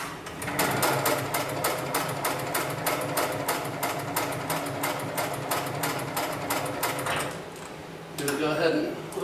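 An extra heavy duty single needle lockstitch sewing machine stitches a lifting sling in a steady rapid mechanical clatter, loud and close, stopping near the end before a brief whir of the automated presser foot.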